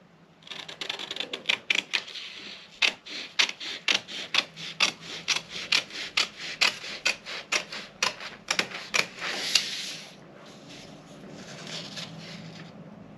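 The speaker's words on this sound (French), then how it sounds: "Donc, je viens couper sur mon encolure au dos." Scissors cut through fabric along the back neckline of a bustier pattern in a sewing workroom, a close, regular series of crisp snips followed by a softer rustle of cloth at the end.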